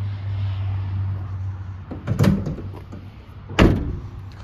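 Rear cargo doors of a 2023 Ford Transit T350 high-roof van operated in turn, giving two separate latch-and-swing thuds about a second apart over a steady low idle hum.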